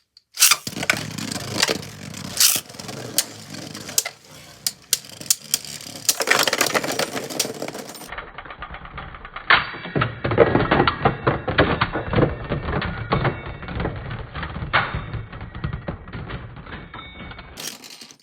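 Two Beyblade Burst tops, Roktavor R5 and Lord Spryzen S5, spin and clash in a stadium, making a continuous whirring rattle with repeated sharp clacks and knocks over about eighteen seconds.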